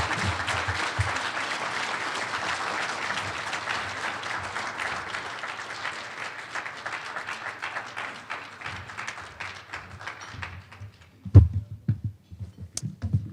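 Sustained audience applause at an educator of the year banquet, steady dense clapping from a room of people that tapers off, followed by a few louder nearby sounds and a brief voice.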